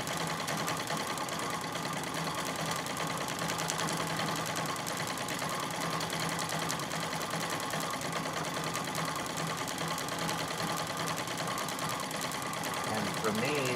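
Singer 66 treadle sewing machine stitching steadily during free motion quilting, a continuous fast rhythmic needle clatter running throughout, close and fairly loud, with a person talking over it.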